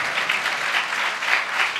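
A church congregation claps together in worship, a dense, steady wash of applause from many hands, loud and close throughout with no voices standing out.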